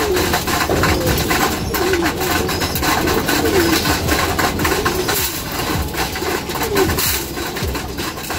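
Hungry racing pigeons cooing together in a loft, a dense mix of soft throaty coos and wing shuffling close by, with a faint engine hum behind.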